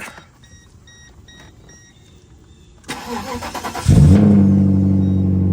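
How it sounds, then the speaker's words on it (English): A Mercedes W210 E-Class gets a cold start: quiet beeping chimes, then the starter cranks briefly and the engine catches with a loud rev before settling into a steady, close idle. "So that's how she sounds at cold start."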